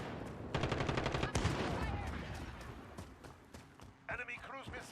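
MP7 submachine gun firing in Call of Duty Modern Warfare: a rapid burst of automatic fire, then more shots trailing off, with game voice callouts over the action.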